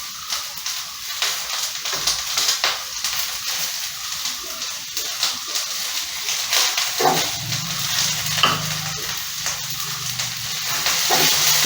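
Chopped onion frying in coconut oil gives a steady, close sizzle throughout, with scattered clicks and scrapes from stirring in the pan.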